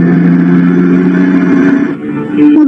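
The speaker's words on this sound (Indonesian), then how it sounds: "Mobil angkot itu terus berjalan karena tidak boleh mengetem di depan halte." An angkot minibus pulls away from a bus stop, a steady mid-pitched engine drone that briefly dips and then swells again as it drives off, loud and close with no talk over it.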